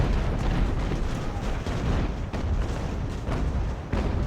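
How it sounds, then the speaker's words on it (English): Continuous rumbling cannon fire from American warship guns in a naval battle of the Ultimate Admiral: Age of Sail game, a dense, loud barrage of overlapping booms with no pauses and no talk. "The American guns are just shooting at anything that's moving."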